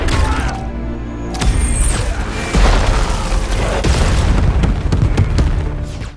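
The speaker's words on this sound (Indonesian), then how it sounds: "Reaper, we're taking RPG fire." An RPG rocket blast in an action film battle, a loud booming explosion that rolls into a long roaring rumble with crackling debris, dense and close throughout.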